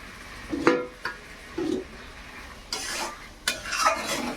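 Spiced mixture sautéing in oil in a pan, with a soft sizzle underneath and repeated scraping stir strokes and utensil clinks, close and irregular.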